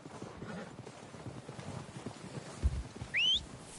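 Horse hooves clip-clop softly in the Red Dead video game, a loose, faint rhythm of steps under ambient outdoor noise, with a brief whinny-like call near the end.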